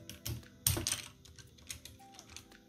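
Typing on an older Royal Kludge mechanical keyboard with soldered, non-hot-swappable switches: a quiet, irregular run of clicky keystrokes with a few louder clacks, heard close up on its own.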